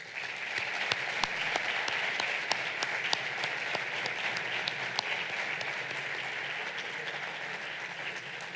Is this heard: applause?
yes